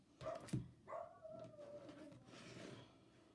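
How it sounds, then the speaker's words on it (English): A dog barks and howls outside in the dark, a few sharp barks followed by a drawn-out howling yelp, fairly faint and alone. "finding something to bark at right now"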